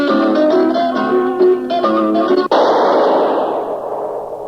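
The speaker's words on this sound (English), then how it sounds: "That was the shot that killed Harry Lime." Gunshot sound effect in The Third Man, a golden-age radio mystery set in Vienna. Music plays first, then one loud sharp shot cuts it off and a long reverberant echo fades away alone.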